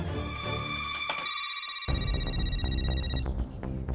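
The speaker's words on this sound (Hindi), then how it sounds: "फोन बज रहा है, शायद उसी आदमी का फोन हो सकता है जिसने फणस भेजे।" A phone ringtone plays, a bright electronic melody with sustained tones, loud and close, repeating its phrase without pause.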